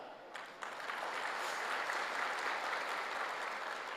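Steady applause from an audience, a brief patter at first then swelling into sustained clapping that fills the room for several seconds.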